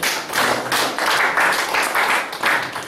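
A church congregation acclaims the Lord with lively applause, dense overlapping handclaps rising and swelling in waves, fairly close and full throughout.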